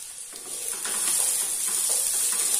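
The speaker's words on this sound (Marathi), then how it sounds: "हे सगळं व्यवस्थित मी तेलावर परतून घेते." Ginger pieces and garlic cloves sauté in hot oil for a Malvani chicken curry, a close, steady sizzle that grows louder after a second with light stirring underneath.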